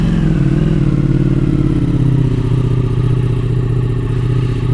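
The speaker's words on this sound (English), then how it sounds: "I'm going to give you a nice cold start." A motorcycle engine idles loud and close after a cold start, holding a steady low, throbbing rumble with a constant mechanical clatter and no speech.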